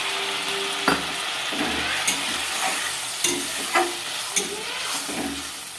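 Water poured into a pan of frying egg chilli with capsicum, a steady loud sizzle with a spoon stirring and scraping in several sharp clacks, close and alone without talk.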